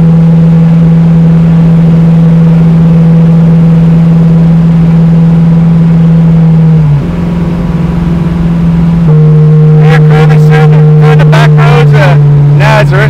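A 1974 AMC Javelin hot rod engine drones loud and close with a steady low tone, shifts pitch partway through, then roars harder toward the end as it pulls away on launch.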